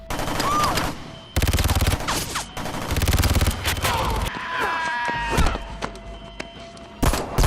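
A gunfight from the film The Purge: Anarchy, with loud bursts of rapid automatic gunfire separated by short pauses, plus thuds and impact sounds amid the action.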